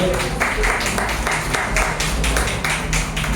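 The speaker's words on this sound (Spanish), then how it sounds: "Aplausos, por favor" Audience at an evening paranormal forum in Xalapa bursting into applause, a dense, steady wash of many hands clapping together that fills the room and continues without letup.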